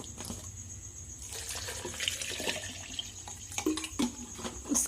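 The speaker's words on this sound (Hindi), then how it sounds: "और इसमें अब हम थोड़ा सा पानी ऐड करेंगे।" Water is poured from a tap into a jug holding taro roots, a soft running splash close by with gurgles and a few brief clinks near the end.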